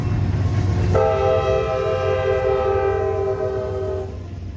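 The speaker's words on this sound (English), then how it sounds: "We see CSX I-132 heading east towards Detroit next with the YN2 AC44 leader." A CSX freight train led by an AC44 locomotive in YN2 paint blows a loud sustained horn chord for about three seconds over the steady rumble of passing railcars.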